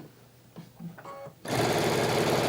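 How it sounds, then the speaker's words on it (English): An industrial sewing machine used for quilting starts up after a few quiet clicks and handling noises, then runs in a loud, fast, steady buzzing stitch that keeps going to the end. "remember this is an industrial thread injector. It's not a sewing machine."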